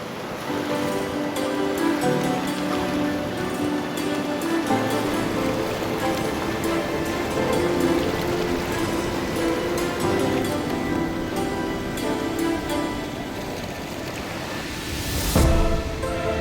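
Continuous rushing, churning cold river water where two rivers meet at the Karnprayag confluence fills the scene at moderate loudness, with a steady hum underneath and a brief louder burst near the end.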